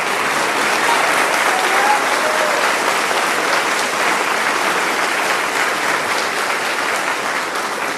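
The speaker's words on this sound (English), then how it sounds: "Let's give these outstanding seniors a big round of applause." A school audience at a 2024 senior awards assembly gives outstanding seniors a big round of applause, with thick, continuous clapping that holds steady from start to finish.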